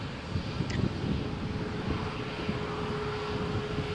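A Jet2 airliner starts an immediate takeoff roll on Runway 13 at Malaga Airport on a stormy morning, giving a steady broadband engine roar at moderate distance with gusty background noise.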